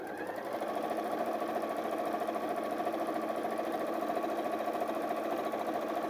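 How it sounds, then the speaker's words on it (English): A sewing machine stitches fabric for a bag along a quarter-inch seam, a fast, even mechanical whirr with rapid needle chatter, moderately quiet and continuous with no talk. "So we're sewing along using a 1/4-inch seam allowance on all 4 sides."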